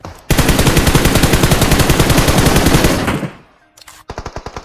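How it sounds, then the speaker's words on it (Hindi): Sustained rapid automatic gunfire in the mobile battle-royale game PUBG Mobile, a loud dense burst lasting about three seconds that fades out, followed by a short pause and another quick rattling volley. "अब ये बंदे मेरे पे भी फायर करते हैं"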